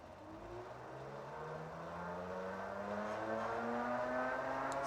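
A 1,000 watt ebike hub motor spins in second gear, giving a faint, smooth whirring whine that climbs steadily in pitch as it speeds up, heard alone at a distance.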